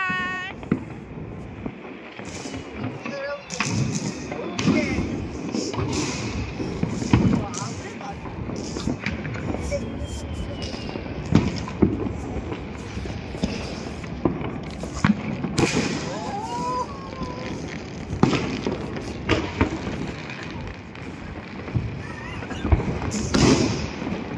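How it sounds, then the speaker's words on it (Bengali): New Year fireworks and firecrackers burst from rooftops all around, a dense run of sharp cracks and pops, some near and some distant, over a steady background rumble. "সবাই যে যা ফ্ল্যাটেও ছাদে উঠে বাজি ফাটাচ্ছে।"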